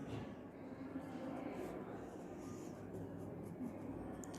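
Marker or chalk writing out the area formula for triangle ABC on a classroom board, a steady continuous scratchy rubbing that runs throughout under faint background noise.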